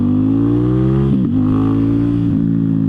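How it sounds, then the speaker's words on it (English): 2019 Ducati XDiavel S with a powerful V-twin engine accelerating, a loud close throaty roar rising in pitch, dropping briefly at each gear shift before climbing again. "we are on a heavier motorcycle with a very powerful V-twin, I believe, engine"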